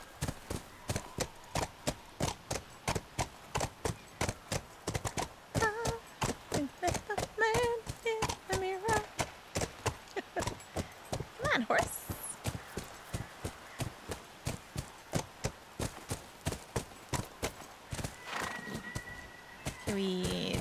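A horse galloping in The Last of Us video game, a fast, regular run of hoofbeats heard up close throughout, with people talking briefly partway through.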